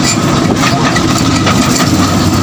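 A motorcycle engine idles near a bridge under repair in a flood-hit area of Tabunok, Palompon, Leyte, giving a steady low rumble that runs without a break beneath dense outdoor noise.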